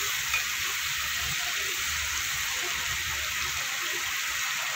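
Ground spices, salt, turmeric and Kashmiri chilli powder fry in oil in a pan with a steady, even hiss of sizzling and faint stirring underneath, no speech.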